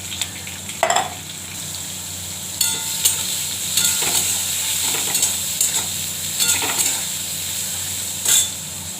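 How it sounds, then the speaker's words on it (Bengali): Eggplant frying in hot oil in a pan for a jukti phool recipe, giving a steady, close sizzle throughout with a few brief clinks and scraping stirs rising above it. "বেগুনটা আগে ভেজে দেবো, তেল দিয়ে দিচ্ছি"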